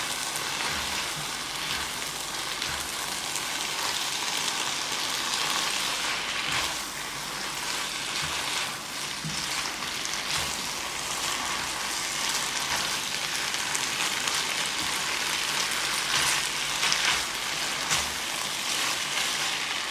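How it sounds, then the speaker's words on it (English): Garlic chilli noodles stir frying in a hot pan make a loud, continuous crackling sizzle with occasional stirring scrapes, steady and dense throughout, with nobody speaking. "So you just stir fry for a few minutes."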